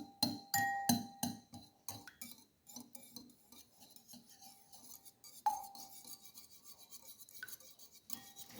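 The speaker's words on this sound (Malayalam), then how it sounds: "ആദ്യം നമുക്ക് ഈ മുട്ട പൊട്ടിക്കാം." Egg being cracked into a bowl that already holds milk, with a run of sharp clinks and taps against glass, followed by lighter scattered clatter of utensils.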